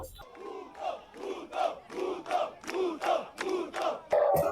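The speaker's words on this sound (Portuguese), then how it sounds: "Torcida bastante animada" Football supporters of Clube do Remo chant loudly in rhythmic bursts as the team leaves the airport, a crowd cry rising and falling roughly every half second with no separate speech.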